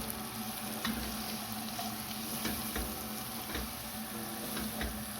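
A curry base with a heaped spoon of turmeric sizzles in a pan for a paneer and pea curry, a steady frying hiss broken by several soft spoon scrapes and knocks as it is stirred.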